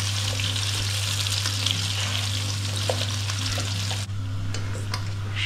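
Potatoes fry in a pan of hot oil with a loud, continuous crackling sizzle and an occasional soft toss or stir. It sounds close, goes on without pause and has no voices over it.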